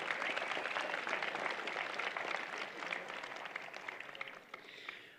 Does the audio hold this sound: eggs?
no